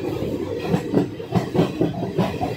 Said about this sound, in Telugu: కొత్త వలస నుంచి మన ట్రైన్ బయలుదేరిపోయింది.